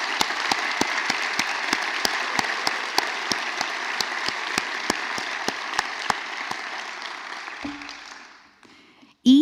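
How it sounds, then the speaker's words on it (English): A crowd at a medical college white coat ceremony applauds for the incoming class, dense sustained clapping with loud individual claps cutting through, holding steady for about eight seconds before quickly fading, then a brief thump at the end. "Applause our class of 2030."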